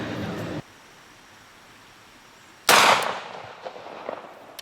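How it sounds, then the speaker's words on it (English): A single loud, sharp shot from a .380 pistol firing a jacketed hollow point round outdoors, followed by a decaying echo and faint rustling. "we'll shoot the regular jacketed hollow point."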